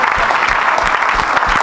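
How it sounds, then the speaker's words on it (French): A church congregation at an evangelistic service breaks into loud, dense applause and cheering, a close, continuous roar of clapping hands. "Acclamez encore."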